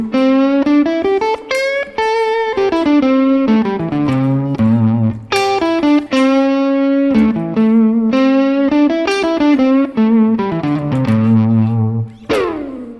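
Electric guitar with light distortion playing minor pentatonic licks, flat thirds bent up a half step to major thirds, clear sliding bends and sustained notes in a loud, close, unaccompanied phrase.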